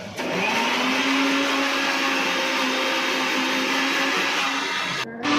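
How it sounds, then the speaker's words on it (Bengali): An electric blender grinds poppy seeds into paste in a home kitchen, its loud steady motor whine running continuously before cutting off abruptly near the end. "এই যে পোস্ত বাটা হচ্ছে পোস্ত বাটা হচ্ছে"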